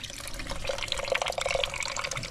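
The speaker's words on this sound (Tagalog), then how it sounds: "Tapon. Yung signature tapon mo ng tubig." Water splashes out of a cooking pot as rice water is drained in a mountain setting, a close, steady gushing pour for about two seconds.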